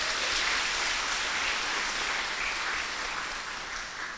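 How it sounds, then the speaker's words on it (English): An audience at a kindergarten graduation ceremony applauds in a steady, dense wash of clapping that holds evenly throughout and fades slightly toward the end. "Please, a bigger round of applause."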